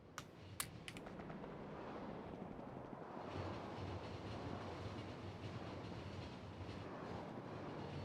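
A train from Factorio with the Pyanodon's mod runs steadily with a continuous rumbling, rattling rail noise that holds across the whole stretch, with a few sharp clicks near the start and no talk over it.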